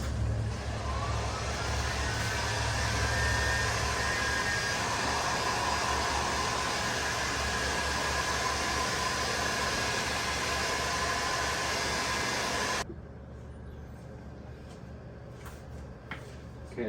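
A heat gun blows steadily as wooden bow limbs are recurved, a loud, even broadband hiss with a low rumble that holds for about thirteen seconds, then cuts off abruptly, leaving faint room noise and a few small knocks.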